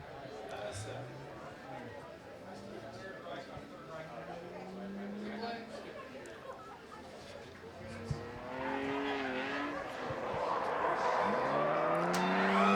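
At a grassroots motorsport event a race car spins out. Its engine note rises and falls, and the tyres scrub audibly, under steady, excited commentary throughout.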